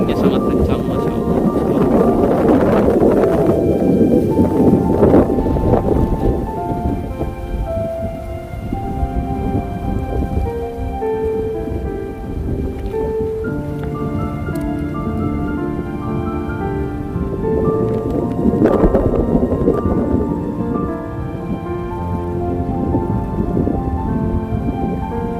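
Strong wind and heavy rain at Masjidil Haram in Mecca, a steady loud roar of rainfall and gusting wind that swells and eases throughout, with a crowd murmuring underneath.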